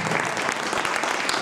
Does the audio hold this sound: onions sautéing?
no